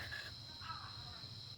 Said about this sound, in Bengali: এত সুন্দর পাখির ডাক ঝিঝির ডাক